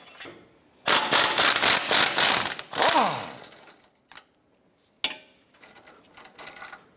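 A hand ratchet clicks rapidly while removing a control arm bolt on a 2010-2016 Cadillac SRX, a close burst of metallic ratcheting followed by a few scattered clanks and faint tool handling.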